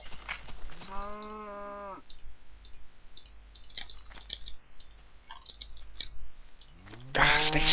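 Cows in the block-building game Minecraft give two drawn-out moos, one early and one at the end, separated by stretches of sharp clicking and tapping.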